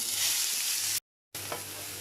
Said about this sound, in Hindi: कड़कड़ाने की आवाज़ आनी शुरू हो गई है ज़ीरे की और अब मैं इसमें ऐड कर रही हूँ एक बड़ा प्याज जो मैंने चॉप कर लिया